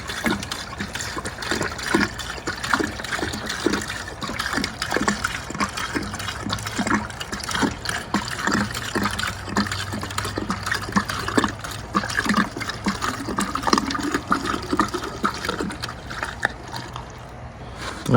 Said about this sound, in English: Fill up her washer fluid before we do that.